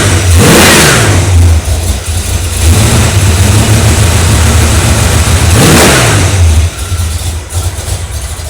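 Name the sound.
car engine running and revving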